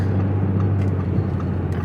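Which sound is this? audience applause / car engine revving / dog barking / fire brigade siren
car engine revving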